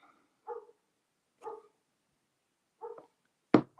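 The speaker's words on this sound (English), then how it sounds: "your neighbor's dog is back." A neighbour's dog barks in short single woofs spaced about a second apart, four barks heard from a distance in an otherwise quiet room, the last one louder and sharper.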